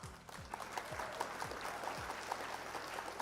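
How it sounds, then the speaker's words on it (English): Applause for an opponent after a Flesh and Blood card game match, a steady wash of many hands clapping that holds at an even level throughout. "Round of applause for our opponent."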